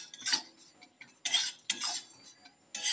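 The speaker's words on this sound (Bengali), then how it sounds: "নেড়ে নেব, লাল লাল করে ভেজে নেব।" A spoon stirring and scraping through flour pellets frying in white oil in a pan, in several short scratchy bursts with quiet gaps between them.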